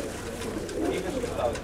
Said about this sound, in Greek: Και εδώ βλέπουμε τα πουλιά που επέστρεψαν.